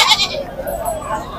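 A goat bleats close by at a busy goat and ram market in Mydukur, with a short wavering call over constant crowd chatter and livestock noise.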